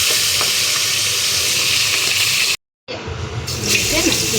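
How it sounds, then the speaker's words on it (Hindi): Fish fries in a pan with a dense, continuous sizzle and crackle, briefly cut off by a short gap before the frying resumes, with faint voices in the background. "तो इधर तो हो गया मछली फ्राई पूरा।"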